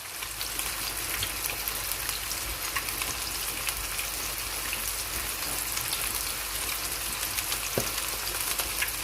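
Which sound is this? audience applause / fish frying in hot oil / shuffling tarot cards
fish frying in hot oil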